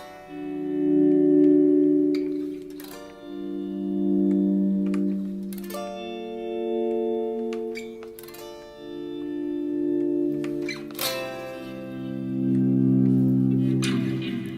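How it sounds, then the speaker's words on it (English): Electric guitar playing slow volume swells through heavy delay on the amp, each note or chord fading in softly and blooming into sustained, cave-like echoing tones, several swells in succession with no talking. "I'll just, play some kind of volume swells for you"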